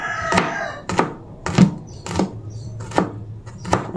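A knife chops peeled garlic cloves on a cutting board in seven sharp, evenly spaced thuds about half a second apart, close and clear.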